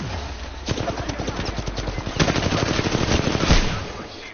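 Rapid automatic gunfire in the battle royale shooter Apex Legends: dense, rattling bursts of shots fire repeatedly, loud and close, swelling into a heavier volley near the end, with no speech.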